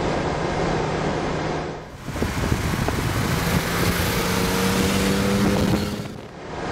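A BMW 633 CSI with a naturally aspirated engine, no turbo, accelerates steadily. Heard from inside, the drone is loud and continuous and the engine note rises and falls across the pull.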